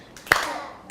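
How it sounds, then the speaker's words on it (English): A single sharp clap of the hands, followed by the start of a second clap at the very end. The claps stand out against a faint background. "Let's clap our hands."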